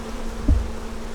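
Honeybees buzzing at an open hive in South Carolina: a faint, steady hum close by, with one brief louder buzz as a bee passes near, no talking.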